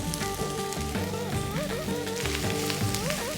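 Cold cooked rice hits a hot pan for potato rice and sizzles steadily, a dense continuous crackle of frying at close range with no talking, a faint tonal music-like line running underneath.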